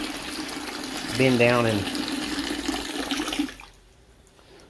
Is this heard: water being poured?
yes